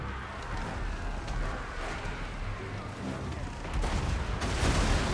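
Artillery fire in a fantasy strategy battle game, a continuous rumble of distant booms and shots, with heavier blasts building toward the end and no talk over it.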